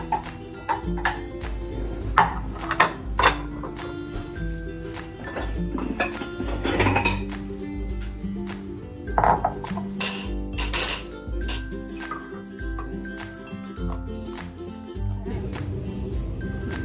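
Plates and dishes clink and clatter as they are taken out while cooking pancit canton, a run of bright, ringing ceramic knocks and chimes, some sharp and close, scattered unevenly with short pauses.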